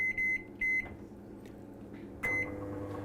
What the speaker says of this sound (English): throw it over here in the microwave for a couple of minutes